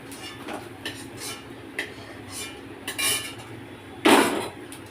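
Fried red lentil fritters are lifted out of a frying pan with a metal utensil, making several scattered clinks and scrapes against the pan and ending in one louder clatter. No one speaks.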